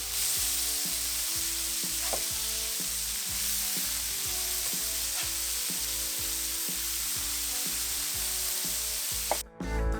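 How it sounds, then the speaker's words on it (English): Burger patties sizzle loudly and steadily while frying for Oklahoma onion burgers. The hiss is close and unbroken, with a low rhythmic hum pulsing underneath. "Let's go ahead and get a couple more patties going."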